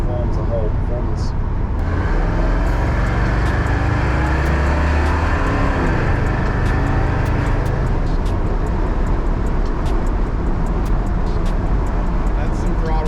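A supercharged 5.3 LS V8 in a slammed 1964 Chevrolet C10 revs loudly and roars continuously up close, with the engine note rising and falling as a voice talks over it.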